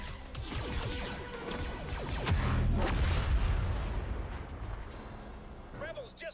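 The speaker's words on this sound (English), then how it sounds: "They seem to make a sort of double explosion, or a first explosion and then a sort of implosion after." Special grenades in Star Wars Battlefront go off in a dense rumbling double blast, a first explosion followed by an imploding crash, amid ongoing battle noise and a voice speaking over the game.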